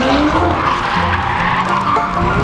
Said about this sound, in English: And drifting.